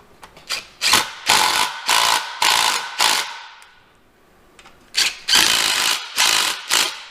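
Repeated ratcheting clicks from a wrench tightening bolts on a ZF transmission for a Cummins-powered Ford Excursion, several quick bursts close by, a pause, then more bursts.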